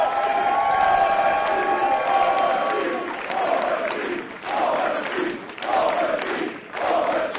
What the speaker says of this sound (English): What a response from this crowd